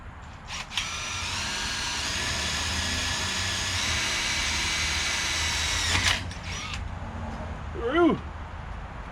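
Power drill boring through a rusty steel bumper on a 1968 car during bumper and exhaust repair, a steady high whining grind held for about six seconds then stopping, with brief tool noises and a short voice afterward.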